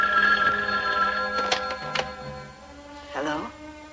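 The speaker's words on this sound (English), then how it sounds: "The phone rang for a long time" A telephone rings indoors with a bright repeating bell tone, and a voice is heard briefly between and after the rings.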